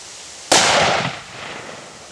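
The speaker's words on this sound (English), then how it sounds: "the next step is to shoot eight pumpkins. Hornady 240 grain hollow point." A .454 Casull revolver fires a single Hornady 240 grain hollow point round into a row of eight pumpkins, one loud sharp blast outdoors followed by a short fading echo.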